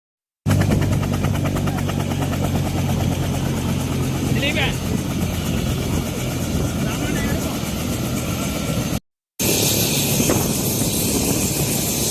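Aircraft engine drone, apparently a helicopter, dropping dry food relief supplies to stranded villagers after a landslide, a loud steady rumble with a rapid chopping pulse that holds for most of the clip, cuts out briefly, then resumes.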